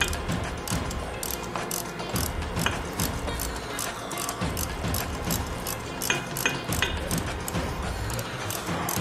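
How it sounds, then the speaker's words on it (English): A 3/16 hex bit loosens a bolt on the shift lever of a 2022 Harley-Davidson Road Glide ST during an inner arm lever install, a rapid series of close, loud ratcheting clicks in an uneven rhythm, with no talking. "Then we have a hex bit with a 3/16. And that is what goes here. So we'll loosen this guy up."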